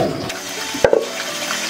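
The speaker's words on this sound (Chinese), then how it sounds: "竹笋煮好了，抓起来冲水。" Boiled bamboo shoots are rinsed under running water, a steady close splash with a couple of brief knocks partway through.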